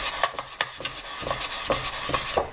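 Rhythmic rubbing strokes of a block plane blade on an abrasive to remove the burr left by a bench grinder, steady close-up rasping with repeated back-and-forth passes and no talking.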